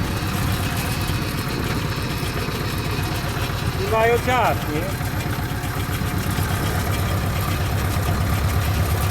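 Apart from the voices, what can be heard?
tractor engine idling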